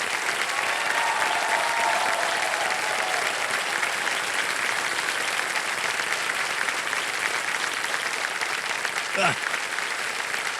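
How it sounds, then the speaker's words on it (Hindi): A studio audience on the KBC quiz show applauds in a long, steady, dense round of clapping, with brief speech faintly under it and a sharp sweeping tone near the end. "बहुत बहुत बधाई आपको, तालियां बज जाएं इनके लिए।"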